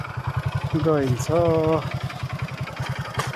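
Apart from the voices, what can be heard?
motorcycle engine while riding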